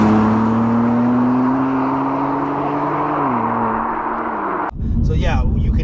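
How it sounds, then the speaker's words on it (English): BMW M2 Competition with its S55 straight-six engine roars steadily and loudly, its pitch falling slightly as it passes, then gives way abruptly to a short burst of harsher, broadband exhaust and road noise at the end. "you can hear from the outside, you hearing that proper S55 straight 6 engine"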